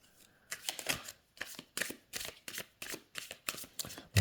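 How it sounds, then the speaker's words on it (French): Oracle cards are shuffled by hand close up, with about nine quick riffling bursts in a steady rhythm and short pauses between them, and no talking. "Donc les cartes glissent très bien."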